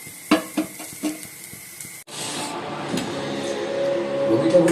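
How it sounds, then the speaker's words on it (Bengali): Potatoes frying in a pan at home, a steady crackling sizzle that takes over after a few clinks and knocks at the start and keeps going, close and fairly loud. "আমরা আলুটা তো ভেজে দিচ্ছি এবার একটু ভাজি"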